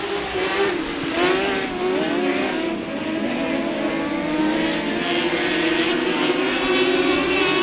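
A pack of race cars roars through a heat race at Kennedale Speedway Park, a loud, steady wall of engine drone with overlapping rising and falling pitches as cars sweep past, no voices over it.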